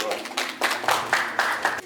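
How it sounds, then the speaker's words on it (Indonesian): Clapping and applause for a doctor at a church prayer and healing gathering, heard as a few sharp, irregular bursts of hand claps over roughly two seconds, close and moderately loud with some voices mixed in. "Tepuk tangan dokter itu."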